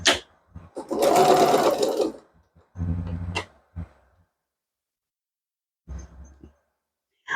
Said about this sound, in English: I'm just going to sew as close to the edge